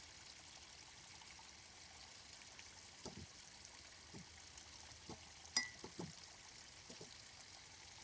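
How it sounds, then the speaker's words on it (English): A burbling brook runs as a faint, steady trickle of water beneath a few soft, sporadic clicks and knocks, with no voices present. "incredible burbling brook noises"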